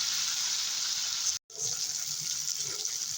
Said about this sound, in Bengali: দেবো সামান্য একটু জল দু মিনিটের মতো কষিয়ে নেব